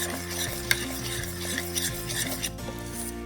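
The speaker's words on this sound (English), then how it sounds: "I'm just going to stir that together like I normally would. Our butter is melting nicely." Food is stirred in a pan with melting butter, a continuous soft sizzle under repeated scraping strokes and occasional clinks of the utensil against the pan.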